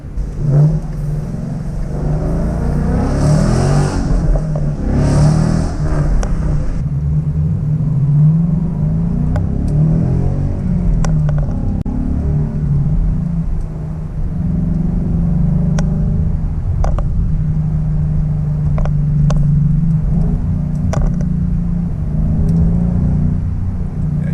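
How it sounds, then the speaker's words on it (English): A 2015 Ford Mustang GT with a Ford Performance sport exhaust rumbles and revs loudly, the V8 climbing in pitch then settling back to a deep, steady idle burble. "It's not a quiet exhaust system by any means. But basically, it's a great sounding exhaust system."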